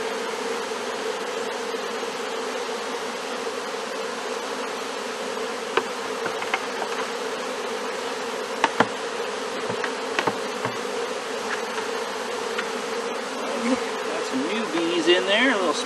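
A honey bee swarm hums loudly and continuously up close, a dense droning buzz with a few faint knocks and rustles underneath.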